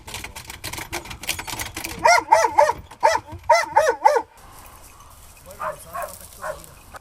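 A search and rescue dog barks in repeated sharp bursts, close and loud, in two quick clusters with a clattering rhythm, then fainter yips trailing off afterward.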